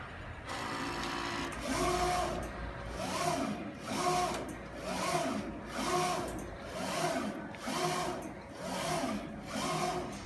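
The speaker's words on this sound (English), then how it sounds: "If not cancel, the printer will continue to printing, it's not stop." An MT Refretonic 1807DE eco solvent printer prints a calibration test. Its print head sweeps back and forth in a steady rhythm of about one pass per second, loud and mechanical with a whirring hum, and nobody speaks.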